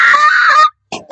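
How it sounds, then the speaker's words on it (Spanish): A loud, sustained high-pitched scream lasting over half a second, then two short sharp vocal bursts after a brief pause. "Eso es un grito."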